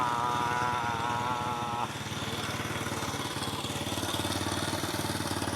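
A Honda EX5 motorcycle engine starts up and settles into a steady, loud, close-up running chug, with a rougher tone at first before it evens out.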